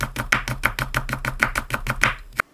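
Carrots are cut into thin julienne strips with a knife on a cutting board, a steady run of quick, crisp chops landing close and clear in an even rhythm, ending with one final tap.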